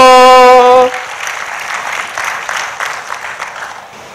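Congregation applauding during a Swahili church service, steady crowd clapping that follows a short loud spoken or sung tone and continues evenly at moderate distance.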